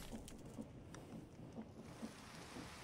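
Steady soft rain hissing in the blocky game world of Minecraft, a continuous quiet wash with faint patter and no voices.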